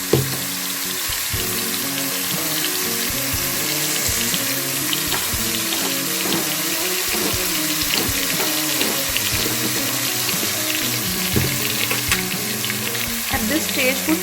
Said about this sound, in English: Now at this stage put some salt so that we can easily saute it and it can be cooked in no time.